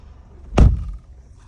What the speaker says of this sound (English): So I'm back in the car, and let me close the door.